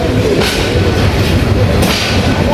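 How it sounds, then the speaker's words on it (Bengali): A moving passenger train from Sylhet to Chittagong, Bangladesh, rumbles steadily, wheels clattering on the rails, loud and continuous with a metallic rattle throughout. "এই যে ট্রেনের শব্দ করে"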